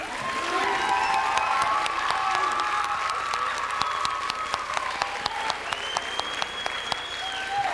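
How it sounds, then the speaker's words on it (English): Sustained applause from a large audience at a high school senior awards ceremony fills the space, with dense steady clapping and a few sharper claps standing out. "we'd like you to all applaud all the award winners here today"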